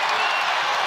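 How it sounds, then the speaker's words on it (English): Arena crowd roaring at the 2025 NBA All-Star game in San Antonio, a dense, loud, sustained wash of cheering and noise with no break. "Crowd on his feet."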